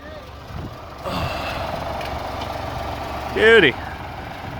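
A 1969 Pontiac Firebird's 400 engine, previously blown, catches on its first start and settles into a steady idle hum. A voice speaks briefly over the running motor.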